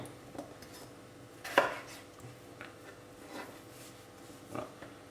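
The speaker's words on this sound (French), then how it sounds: "Donc vous venez couper les pommes de terre." A knife cutting potatoes on a board for purée in a home kitchen, with a few sparse, soft chopping taps and one sharper cut standing out against quiet room tone.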